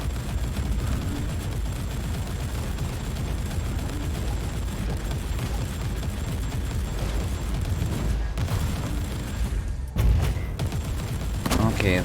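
In Warhammer 40,000: Inquisitor, bolter shells fire in dense rapid bursts and burst into small explosions, a continuous loud clatter of blasts with brief dips near the end and a heavier boom just after them.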